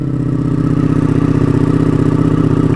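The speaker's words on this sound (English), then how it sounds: "the sound of this bike with that exhaust" A sport motorcycle with an aftermarket exhaust runs loud and close with a deep, raspy, pulsing exhaust note, idling steadily throughout.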